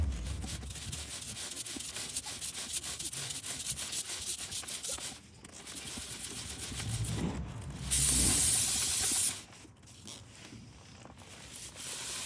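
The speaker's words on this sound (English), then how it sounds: "So I'm just going to use the chain cleaner now." Chain cleaner sprays from an aerosol can onto a motorcycle chain in close hissing bursts over rubbing and scrubbing noises, with a louder, brighter spray blast near the end.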